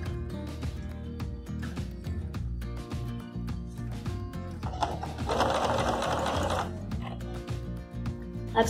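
A sewing machine stitches a folded edge of old denim jeans with a steady, fast mechanical whir, rising into a brief louder burst midway before settling back.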